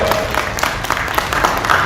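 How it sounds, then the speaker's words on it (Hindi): A debate-show audience claps in short scattered bursts, with broadband crowd noise that stays steady and moderately loud, mixed under a busy studio hall's murmur. "अरे ताली बजाओ"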